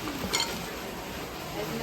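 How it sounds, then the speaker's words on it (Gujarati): Bhungla, fried snack tubes, sizzling in hot oil in a home kitchen, a steady close crackle with a brief clink of utensils near the start. "ભૂંગળા તળે છે."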